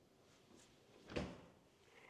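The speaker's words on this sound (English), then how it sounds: "Let's open up some of these drawers for you." A kitchen drawer in a luxury home is opened once, making a single soft sliding thump midway through an otherwise quiet room.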